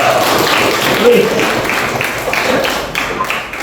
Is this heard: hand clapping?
yes